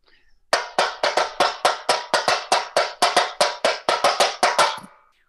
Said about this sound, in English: I've got a small drum that comes from this place, and I'm going to show you how I play it.